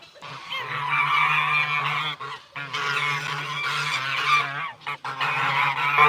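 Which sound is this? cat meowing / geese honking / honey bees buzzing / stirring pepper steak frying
geese honking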